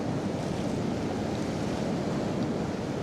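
Rough sea surf breaking along a rocky Northumberland shoreline during cod fishing, a steady broadband wash of waves with wind noise, continuous and fairly loud throughout with no voices.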